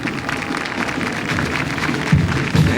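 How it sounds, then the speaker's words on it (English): Parade crowd applauding along the route of Ronald Reagan's 1985 re-inauguration parade at Epcot, a loud, continuous outdoor patter of clapping with a few heavier low thumps near the end. "some of the applause, people showing how well they like this parade this afternoon"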